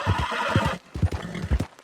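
A horse in Red Dead Redemption 2 gives a loud, close whinny followed by a series of rhythmic hoof clip-clops.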